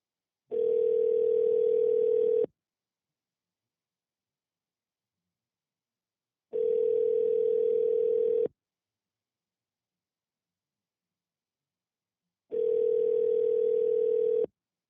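An outgoing telephone call rings while waiting to connect, three identical steady two-second ringback tones separated by four seconds of silence, clear and alone.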